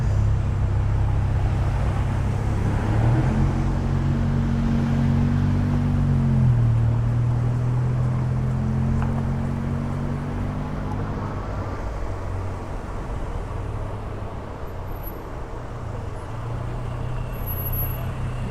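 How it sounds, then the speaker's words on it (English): Rainy-day city traffic on a Toronto street, a steady close roar of cars, trucks and buses with a heavy engine droning and shifting pitch near the middle, and no talk. "I wonder why traffic has hit this snarl here."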